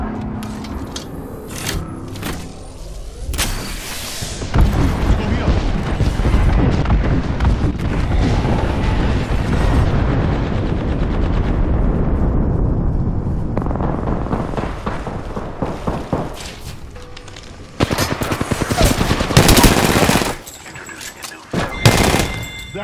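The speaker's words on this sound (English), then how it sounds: "Calling the airstrike." Gibraltar's airstrike in the Apex Legends video game brings a long, dense barrage of explosions mixed with rapid gunfire, loud and sustained, followed by sharper scattered shots.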